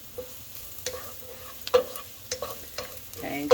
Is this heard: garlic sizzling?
yes